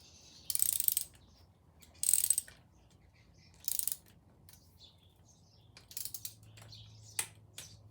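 A torque wrench set to 8 pound-feet clicks several times while tightening oiled top-end bolts on an S&S X Wedge motorcycle engine, each a short, sharp, light click spaced about a second or two apart in a quiet room.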